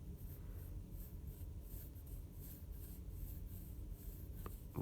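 A pencil drawing small ovals and curves on paper, heard as a steady close scratching and rubbing with no voices.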